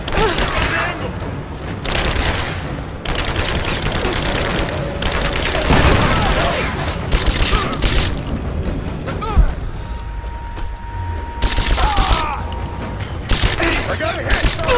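Sustained gunfire in a Rise of the Tomb Raider firefight: dense bursts of rifle and machine-gun fire with booms and crashes, loud and continuous, under overlapping shouted voices.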